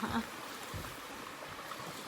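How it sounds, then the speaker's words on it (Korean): Water flows steadily beside a hot spring near Furano, Japan, a continuous close rushing and trickling wash with no talk over it. "물소리."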